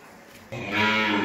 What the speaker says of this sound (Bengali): এই হলো 8 নাম্বার একটা ফ্রিজিয়ান বকনা বাছুর